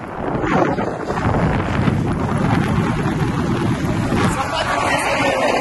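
Strong wind roars steadily over the microphone throughout a long-distance road cycling ride, a continuous loud broadband rush with no break.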